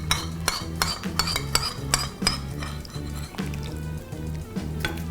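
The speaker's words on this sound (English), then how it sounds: "Giving everything a good mix." Beet and bulgur salad with sauce mixed in a bowl, a rapid series of clinking utensil scrapes and soft wet squishes repeating steadily and close by.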